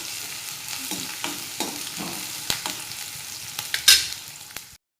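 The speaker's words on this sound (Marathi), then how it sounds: "मस्त मिरच्या पण तडतडत आहेत आणि लसूणही चांगला तळला जाईल त्याच्यामध्ये" Green chillies and garlic sizzle and crackle in hot oil for a dry pea and potato bhaji, a steady close frying hiss dotted with sharp pops and a few louder spits near the end, with no talking.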